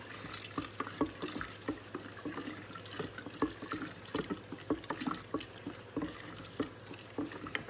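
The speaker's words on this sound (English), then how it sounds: "I'm going to pour that in here" Thieves laundry soap ingredients poured into a container: liquid trickles and splashes in a steady stream, with scattered clinks and small knocks nearby; no talking.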